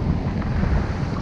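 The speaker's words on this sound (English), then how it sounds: "It's a little windy" Strong wind gusting across the microphone on a seashore with choppy surf, a dense low rumbling roar that stays loud and steady throughout with no voices.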